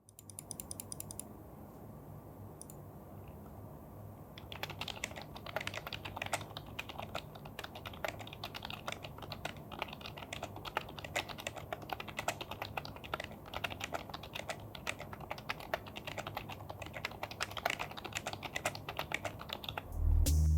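Steady, rapid typing on a soft-clicking membrane computer keyboard, continuous keystrokes for the whole stretch with no talking.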